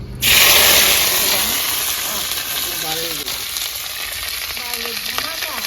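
Cauliflower pieces hit hot mustard oil in a village-style home kitchen with a sharp, loud sizzle that settles into a steady, close frying hiss while a voice talks faintly over it.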